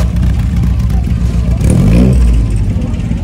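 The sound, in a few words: vintage car engine revving with exhaust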